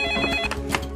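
A telephone rings in short bursts over a low background hum, moderately loud and close, with no voices.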